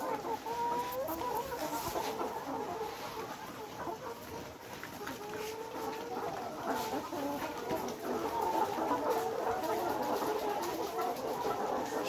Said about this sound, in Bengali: এদিককার মুরগিগুলো আপনাদের দেখে দিতেছি